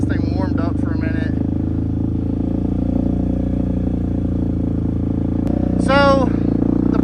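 A Can-Am Outlander ATV with a new exhaust idles steadily as its engine warms up, a constant low rumbling drone close by, while people talk over it.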